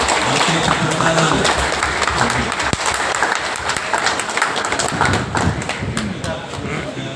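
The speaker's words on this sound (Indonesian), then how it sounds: "Oke, tepuk tangan." Sustained applause from a wedding crowd, dense and steady throughout, with a few thuds and a voice faintly mixed in.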